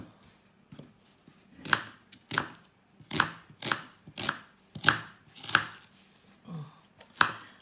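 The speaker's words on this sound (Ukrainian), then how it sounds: "Дорізаємо остатню цибулю." A knife chops through the last onion on a cutting board in about nine sharp, evenly spaced strokes, close and clear with nothing else heard.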